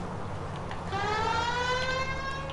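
A police car siren in the video game L.A. Noire, wailing loud and close as its pitch sweeps upward and holds in a rising, repeating electronic tone.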